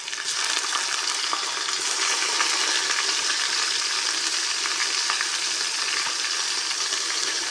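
Ginger garlic paste frying in a pan with browned onions for a capsicum and potato dish gives a steady, close, bright sizzle that holds evenly throughout with no talking.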